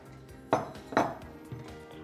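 Metal spoon clinking twice against a pot while stirring ingredients into water, two bright ringing knocks close by with a softer tap after, over faint background hiss.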